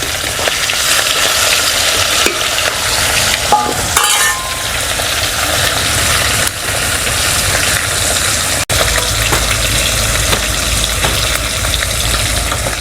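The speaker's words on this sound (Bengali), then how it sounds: "বাকি মাছগুলো ভেজে নেব" Pieces of katla fish fry in hot oil for a lemon katla kalia, a steady dense sizzle holding close and loud throughout with a brief clatter near the start and no voices.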